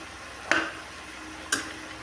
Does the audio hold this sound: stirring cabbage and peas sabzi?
yes